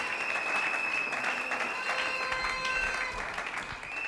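Church congregation applauding during worship at a Christian service, a steady sustained wash of clapping with crowd noise and faint voices mixed in, loud and even throughout.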